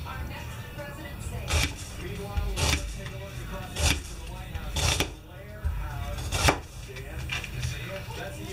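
A knife chops onions on a cutting board in five or six separate, solid thunks spread across the clip, close and clear, with a person talking between the strokes.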